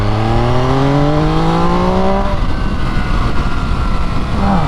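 An MV Agusta Brutale 800 RR three-cylinder motorcycle roars loudly and close, its engine note climbing through the revs before settling into a rough, throbbing exhaust burble.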